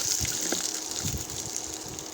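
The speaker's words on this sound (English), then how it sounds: "We have to add a little quantity of water so that it will get cooked nicely." Water pours steadily into a pan of cooking cluster beans (guar), a continuous gushing, splashing rush that stays close and fairly loud for a couple of seconds with no talk.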